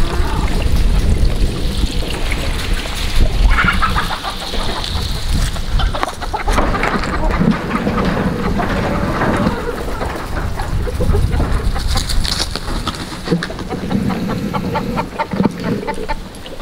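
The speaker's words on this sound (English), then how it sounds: "Sheriff Skeeter's keeping patrol, trying to keep the chickens away from Leeski's food." Chickens clucking near an animal's food outdoors, loud close clucks and calls scattered across the stretch over rustling and background noise.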